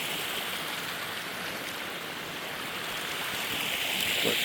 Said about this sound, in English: But wanted to show everyone this waterfall here.